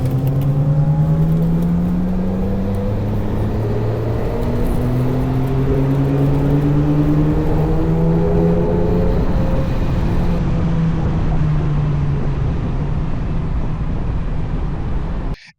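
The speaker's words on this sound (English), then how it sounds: "NSX fitted with a Yamamoto Racing exhaust" Honda NSX sports car with a Yamamoto Racing aftermarket exhaust, heard as a loud, continuous engine howl whose pitch climbs and shifts through the gears, sustained close by for about ten seconds before fading at the end.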